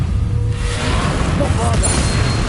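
In Hogwarts Legacy, a Confringo blasting spell goes off as a loud, sustained rumbling explosion with crackling debris, close and dense throughout.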